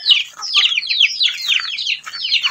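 Young Brahma-crossbreed chicks chirp in a small backyard chicken coop, a steady run of rapid high peeping close by with no talk.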